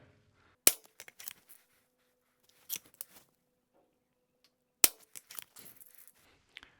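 Hatsan Airtac air rifle firing, with two sharp, loud shot cracks about four seconds apart, each followed by a scatter of softer clicks and mechanical handling noises, with quiet stretches between.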